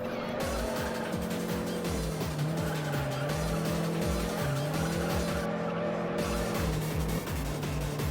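Fiat Punto racing in the Juiced video game, engine droning steadily with shifting pitch and tires squealing through corners, loud and continuous throughout with no pauses.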